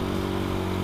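A Honda Win 100 motorcycle accelerates hard, shifting up from second to third gear, its small engine giving a steady, loud, buzzing drone close to the rider.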